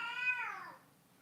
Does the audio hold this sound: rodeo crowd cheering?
no